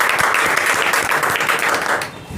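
A crowd claps loudly and steadily at a prize distribution, a dense wash of applause that keeps going for a couple of seconds before thinning at the end.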